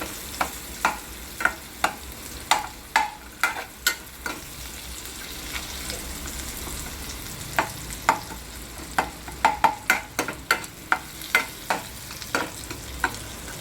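Butter melts and sizzles in a pot while pav bhaji is being cooked, a soft steady sizzle beneath repeated sharp scraping and tapping strokes of a spoon stirring close by.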